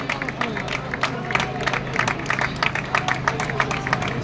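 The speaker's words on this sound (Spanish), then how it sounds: "Un fuerte aplauso para ellos." Applause and cheering from an event crowd as award presenters, the city mayor and the education and security councillors, hand out prizes at a Segovia road race ceremony; steady dense clapping with scattered louder claps and crowd murmur throughout.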